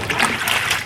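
Water splashes and sloshes as bok choy greens are rinsed in a basin of cold water, a brief, close, continuous wet churning with no voices.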